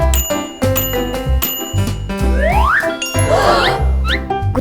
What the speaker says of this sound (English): Let's try to ring the bell!